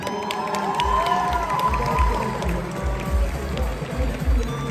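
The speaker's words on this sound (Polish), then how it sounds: "Brawa na nich!" A large crowd at a cosplay show final cheers and shouts with scattered applause, a loud continuous roar of many voices.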